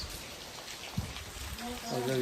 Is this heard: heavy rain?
yes